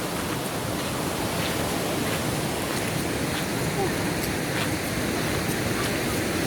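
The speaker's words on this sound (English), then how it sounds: "again the water flow has increased because of the rain" Water pours steadily and heavily over a dam wall, with the flow swollen by rain. A dense, unbroken roar fills the whole stretch with no pauses.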